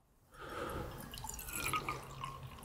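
Freshly brewed pour-over coffee streams out of a vessel in a soft, continuous trickle, quiet and close, starting after a brief silence and running steadily with faint splashy detail.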